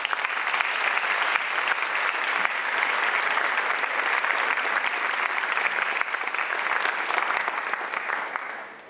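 An audience applauds warmly as astronaut Christina Hammock Koch is welcomed to the stage at a scholars forum, with dense, steady clapping filling the room and then tapering off at the end.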